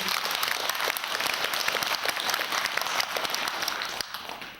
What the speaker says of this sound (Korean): 합창단한테 박수 한번 보내주세요.